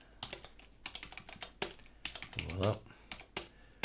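Rapid clicking keystrokes on a computer keyboard during a Linux setup, close and crisp, with irregular bursts of typing and a brief spoken word in the middle.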